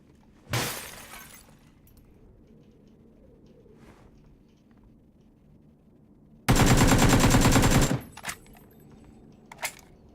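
Bursts of gunfire in PUBG: a short loud volley, then a longer sustained burst of rapid shots a few seconds later, followed by a couple of faint single cracks. All of it sounds fairly near, against a quiet background.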